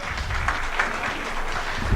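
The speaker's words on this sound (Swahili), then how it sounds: "Tuwapigie makofi kabisa." A crowd applauds at a political media briefing in Kenya, a dense, steady patter of clapping sustained throughout the short stretch.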